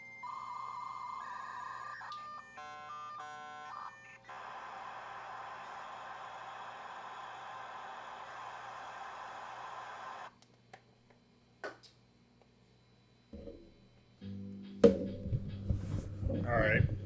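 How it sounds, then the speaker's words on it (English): An internal dial-up modem connecting: a sequence of tones, beeps and a long hissing handshake screech, then quieter gaps and a burst of louder noise near the end, with some talk mixed in. "Try with the internal modem."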